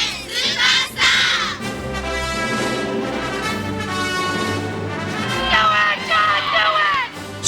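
Loud stadium fans scream and cheer at a sports game, swelling in bursts of shrill yelling with a sustained roar between peaks.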